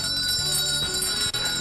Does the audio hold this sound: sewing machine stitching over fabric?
no